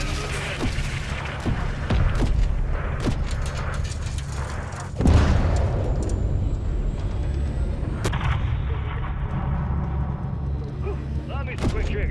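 Missile explosions in the Call of Duty Modern Warfare 3 campaign, a sharp heavy boom midway followed by another blast, amid repeated battlefield gunfire and rumbling, with radio chatter in between.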